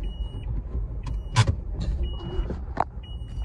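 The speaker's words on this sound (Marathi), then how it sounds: "आता गाडी पार्क करेन" A car being parked on a Navi Mumbai street: a quiet engine idling close by, with a few short clicks and mechanical knocks, faint and muffled, with no talking.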